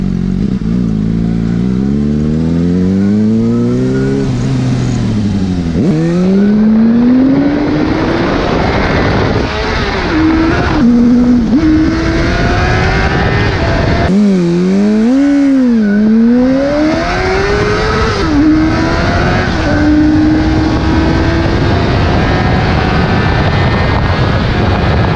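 Suzuki GSR 600 motorcycle engine revving hard while riding on the street, the pitch climbing and falling through repeated rises and gear changes over steady wind rush, loud and close throughout.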